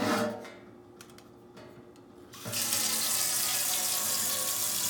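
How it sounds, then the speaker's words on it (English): Tap water runs into a container while a catfish stew is being prepared, starting halfway through as a steady, close rush of splashing after a few light knocks. "What I'm gonna do, I'm gonna fill this with water."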